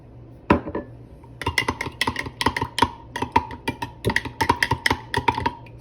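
A whisk or spoon clinks rapidly against a bowl while stirring a saffron-flavored milk mixture for an eggless tres leches cake, in close, steady bursts of light tapping.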